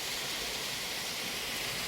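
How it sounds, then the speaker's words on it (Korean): Water rushes steadily down the Songchu Valley stream in autumn, a continuous close hiss of flowing water with no pauses and no voices. "잠깐 물소리를 들으면서 마지막 힐링을 좀 하고 내려가도록 하겠습니다"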